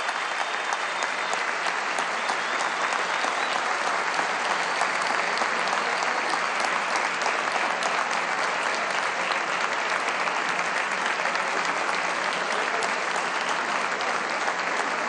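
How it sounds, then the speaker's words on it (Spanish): A large audience at a party congress claps in a steady, dense roar of applause that holds at an even loudness throughout, with no talking. "Rodríguez Chacín, un aplauso para este hombre"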